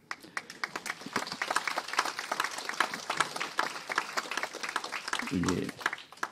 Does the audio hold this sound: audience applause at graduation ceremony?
yes